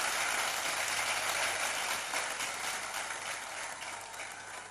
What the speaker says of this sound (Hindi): आइए जोरदार तालियों से हम स्वागत करें इन सभी योजनाओं का।